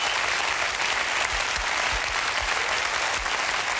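Steady, dense clapping from a television studio audience on a German late-night talk show, loud and continuous throughout without any voices over it.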